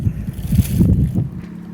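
Low, rumbling gusts of wind buffet the microphone steadily for a couple of seconds, loud and close, with no talking.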